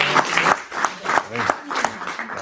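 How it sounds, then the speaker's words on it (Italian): Audience applause after a talk on bees, vineyards and pesticides, a room of hands clapping in a loose, uneven patter with murmured voices mixed in, moderately close. "Applausi"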